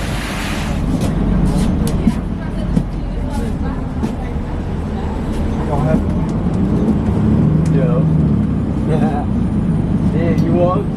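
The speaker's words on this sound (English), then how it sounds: "the S62 and a little Nova bus today" A Nova bus on the S62 route pulls in, its engine a steady low rumble with traffic noise around, while people talk nearby over the drone.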